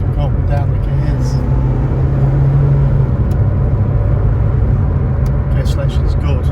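A 1988 Ford Escort XR3i engine drones loud and steady from inside the car, its pitch rising and falling as it works up and down through the gears, with a little mechanical clatter near the end.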